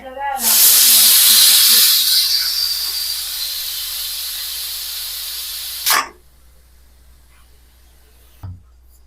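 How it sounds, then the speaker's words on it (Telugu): A pressure cooker holding a cluster bean (goru chikkudukaya) curry vents steam in a loud, rushing hiss that lasts about five seconds and then cuts off abruptly. A brief faint knock follows in the quiet that comes after. "ఇప్పుడు కుక్కర్ క్యాప్ పెట్టి 3 విజిల్స్ వచ్చే వరకు ఉడికించుకుందాం."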